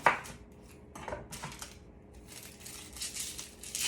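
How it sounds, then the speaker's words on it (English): An onion being chopped for pot roast, a few sharp knife taps on a cutting board scattered between quieter rustling and handling sounds, close and fairly soft. "I'm gonna chop up this onion"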